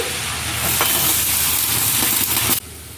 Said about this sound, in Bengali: এটা পেঁয়াজ দিয়ে ভাজতে থাকছি